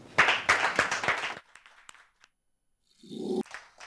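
A short burst of audience applause welcoming a singer onto a stage show, with a few strong claps near the start that quickly thin out and stop, followed by quiet and a brief voice.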